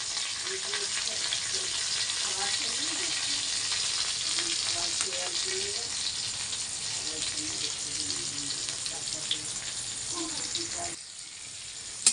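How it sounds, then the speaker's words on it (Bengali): Onion and ginger fry in a pan with a steady, loud sizzle that runs continuously, then drops off briefly near the end; someone talks softly underneath. "একটু পেঁয়াজটাকে আদাটাকে একটু লাল লাল করে ভেজে নিই"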